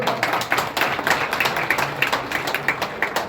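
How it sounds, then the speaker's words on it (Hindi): An audience at a college mock parliament in Bareilly claps in a steady, fairly quiet rhythm, individual claps spaced evenly and heard without speech. "एक बार जरा तालियां बजाइए"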